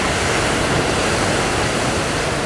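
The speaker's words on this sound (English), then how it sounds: "It's like the waves coming over to where Cody is." Ocean waves breaking at Ho'okipa Beach during a sprint paddle race, a steady, loud wash of surf and white water with no talk.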